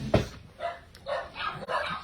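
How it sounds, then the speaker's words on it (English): Dogs barking indoors at home, a few muffled, moderately distant barks and yips in quick succession, with no talking over them. "And then there go the dogs."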